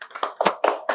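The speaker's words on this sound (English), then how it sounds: "Clap for them." People clap in a quick run of about six sharp, close hand claps, each a crisp smack with a short decay, with no voices over them.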